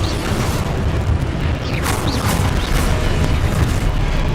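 A Confringo explosion spell bursts in the Hogwarts Legacy video game, a loud booming blast with a rolling rumble and crackling burst layered over continuous game noise.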